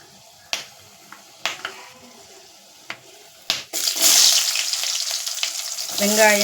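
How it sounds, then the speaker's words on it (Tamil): Onion, tomato, green chili and curry leaves dropped into hot oil: a few sharp taps and clicks, then a sudden loud sizzle that keeps going, close by, with no talking. "தக்காளி, பச்சை மிளகாய், கருவேப்பிலை எல்லாம் போட்டாச்சு. அது அந்த எண்ணெயில் வதங்கி வரட்டும்."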